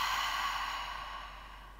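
A long open-mouth exhale during yoga breathing, a soft breathy rush that fades gradually over nearly two seconds, close and alone with no talk.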